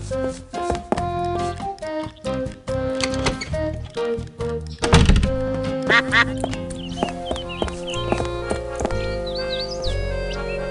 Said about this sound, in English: It's a rather unspectacular duck.